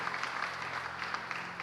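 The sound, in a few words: church congregation applauding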